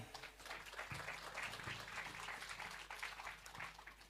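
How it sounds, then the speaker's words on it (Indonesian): Seminar audience applauding at the opening of a national seminar in an indoor hall, a steady, fairly faint patter of many hands with a low background hum and no speech over it. "mari saya undang Bapak Ibu berikan tepuk tangan untuk seminar kita pada hari ini."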